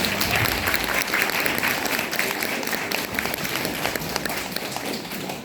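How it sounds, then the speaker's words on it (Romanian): At a school welcome ball for new fifth-grade students, an audience gives dense, lively applause, a steady roar of many hands clapping close by that barely fades over several seconds. "aplaudați pe bobocii clasei a 5-a."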